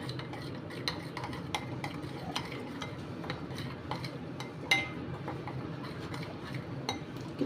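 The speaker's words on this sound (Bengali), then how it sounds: "এবারে এই স্পাইসটাকে আমি ভালো করে মিক্স করব।" Spices and garam masala are stirred into tilapia fish for a roast without oil, with a steady soft scraping and mixing under light ticking clinks of a utensil against the bowl, close and continuous.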